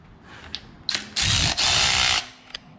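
Bursts of a power driver or ratchet spinning out Allen-head bolts on a cam rail while degreeing Skunk2 Pro 1 camshafts, a short whir then a longer loud burst, close by with faint clicks around it.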